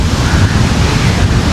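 Sea waves pounding a storm-hit shore in strong wind, a loud continuous roar of surf with heavy wind buffeting the microphone throughout.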